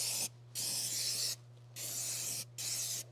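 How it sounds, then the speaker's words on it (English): An aerosol can hisses in three steady bursts separated by short pauses, close and fairly loud, with a low hum underneath, spraying surfaces during insulation work in a 2023 Ford Transit van. "we're just going to spray both of our surfaces"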